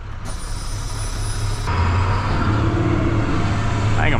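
A truck engine rumbles steadily up close as it drives across rough ground toward a power pole, with a low, continuous motor drone that grows slightly rougher midway and fills the whole stretch.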